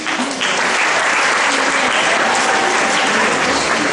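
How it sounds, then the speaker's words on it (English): Form 2 students at Regina Pacis College in Mutengene, Cameroon, burst into loud, dense applause for a schoolgirl, a steady wash of many hands clapping close by for the full stretch without pause. "Clap for her, please."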